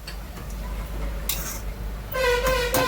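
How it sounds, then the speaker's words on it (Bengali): Carrot halwa is stirred in a pan, with soft scraping and clinking of a spoon against metal and a faint sizzle beneath a steady low hum. "নুন দেওয়ার পর আমি আরেকবার নাড়াচাড়া করে নিচ্ছি।"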